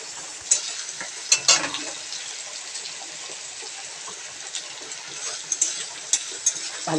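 Spices and Kashmiri chilli powder sizzle and fry steadily in a pan, with a few sharp crackles and scraping stirs over the continuous hiss, no voices.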